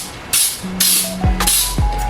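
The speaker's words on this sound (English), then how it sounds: "So I'm just going to spray this really good." Three sharp hissing bursts from an aerosol spray can coating a cake pan, each a second or so long, close up with brief pauses between.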